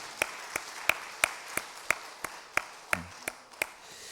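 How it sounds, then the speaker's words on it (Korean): Congregation clapping during a Sunday morning church service, heard as a slow, regular series of distinct, sharp claps, about three per second, fairly close and alone. "우리 힘찬 응원과 격려의 박수 한번 하셨으면 좋겠습니다"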